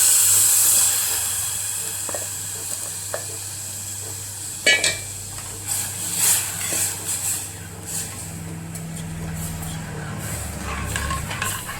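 Tempering poured into Maharashtrian kadhi, a sharp hiss and sizzle bursting up in the middle, with clinks of a metal pan and utensils around it against a steady background of stove noise.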